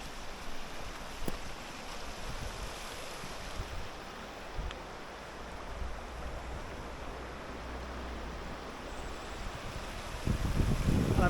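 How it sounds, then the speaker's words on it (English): The Kokra mountain river in Austria flows with clear water, a steady broadband rush of water heard continuously and fairly close, with some wind buffeting at the microphone and no voices present. "that is the river that we are currently following right now through the mountains"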